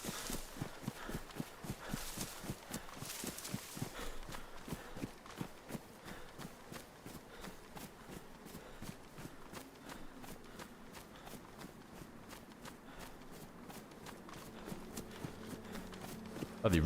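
Footsteps in the survival video game DayZ on the frozen Namalsk map, a steady rapid crunching run of steps that slows to a walk, close and fairly loud, with a few clicks and a low hum near the end.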